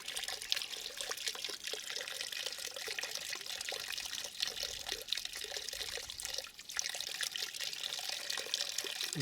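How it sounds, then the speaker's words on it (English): Steady trickling water runs continuously in a garden, a soft splashing flow close by with a faint hiss and no voices. "It's nice, that sound of running water in the garden."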